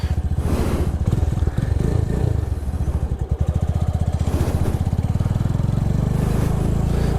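A motorcycle engine idles and then rises in a steady rev as the rider gives it gas during basic rider training at the beach. The engine stays close and fairly loud and runs on alone without talk.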